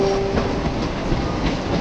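A Supervia Série 3000 commuter train from the OpenBVE train simulator runs along a Santa Cruz–Central line with a steady loud rumble and faint rail clatter, heard alone without talk.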